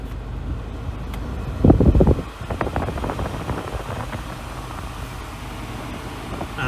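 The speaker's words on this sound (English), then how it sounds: "And the air conditioning definitely works as well, so that's good news." Air conditioning fan of a Nissan Navara 2.3 dCi Tekna pickup blows steadily inside the cab, a broad whooshing hiss with a few clicks and switch knocks partway through.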